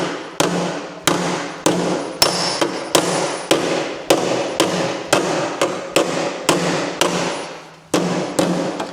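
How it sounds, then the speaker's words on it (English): Repeated sharp metal blows from a shark head stretching hammer shaping sheet metal for a car door bottom, about sixteen ringing strikes at a fairly steady rhythm, loud and close with short decays. "This is the kind of hammer for stretching. Shark head hammer."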